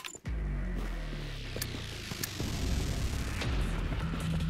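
Grenade explosions in Killing Floor 2: an opening sharp blast followed by a deep rumbling boom that rolls on and swells, with a few scattered crackles and impacts over the low roar.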